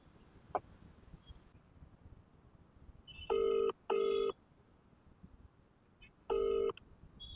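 Phone call ringback tone: three loud, even electronic rings, the first two close together and the third after a pause, over quiet background noise.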